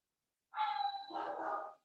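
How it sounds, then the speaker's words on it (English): A dog gives a high whining yelp that drops into a lower bark, faint and somewhat distant, heard alone. "My dogs are waking up."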